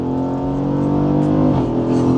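A Jeep Cherokee SRT with a big V8 accelerating hard under full throttle, a loud, steady engine roar that climbs in pitch, close and continuous with no talking.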